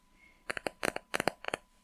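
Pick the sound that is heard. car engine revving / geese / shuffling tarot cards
shuffling tarot cards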